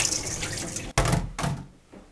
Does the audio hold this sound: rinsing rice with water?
yes